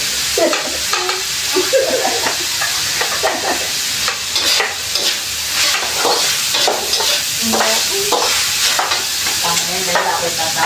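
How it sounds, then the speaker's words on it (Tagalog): Pinoto is stirred and fried in a pot, a loud close sizzle with repeated scraping strokes of a utensil against the metal throughout. "Then ngayon nagluluto po ako ng pinoto."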